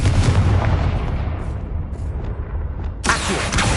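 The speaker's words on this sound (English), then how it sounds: "Confringo." A Confringo fire spell in Hogwarts Legacy, played on PS5, lets out a loud, sustained blast with a heavy, booming low rumble that fades over a few seconds before a second bright, forceful burst strikes near the end.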